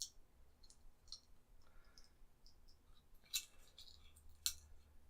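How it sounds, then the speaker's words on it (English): Scissors snip the end off a capsule in a handful of small, crisp clicks scattered over several seconds, quiet and close, with faint handling noise between. "So just take a pair of scissors and just cut the end of the capsule off"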